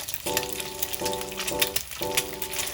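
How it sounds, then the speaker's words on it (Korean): Eggs frying in plenty of oil over high heat, a steady bright crackling sizzle with bursts of popping spatter, close and fairly quiet, broken by a few rhythmic scraping strokes. "저는 계란을 튀기듯이 부치는 걸 좋아해서 기름을 넉넉히 두르고 센 불에 부칩니다"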